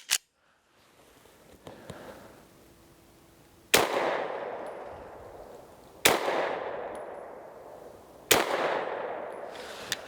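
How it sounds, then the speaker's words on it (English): A Walther PDP-F pistol fires at a target 5 yards away: a few loud, sharp single shots spaced a couple of seconds apart, each with a decaying outdoor echo. "I'm gonna take my first 3 shots, see where we land on the target."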